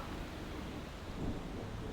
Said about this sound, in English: I'm sure you all can hear the thunder.